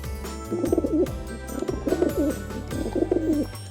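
A pigeon coos in three rounded, throaty phrases, close and clear, with short pauses between them.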